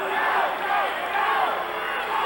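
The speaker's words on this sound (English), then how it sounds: "Enthusiastic crowd on hand with us tonight in Louisville, Corey." A large, enthusiastic crowd cheers and shouts continuously at a wrestling event in a Louisville arena, a dense, loud roar with rising voices throughout.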